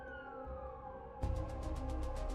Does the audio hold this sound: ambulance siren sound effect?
yes